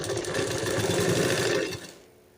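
A sewing machine runs briefly while stitching a kurti neckline, a close, steady motorized whir with rapid needle chatter that winds down and stops.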